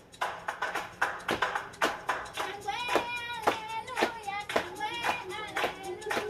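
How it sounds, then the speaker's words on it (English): Sharp hand claps repeat in a quick, uneven rhythm, close and clear, with a tone or voice humming faintly underneath. "And when you hear that clap,"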